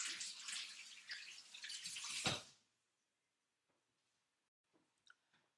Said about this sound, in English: I'm going to rinse this off so I can show you.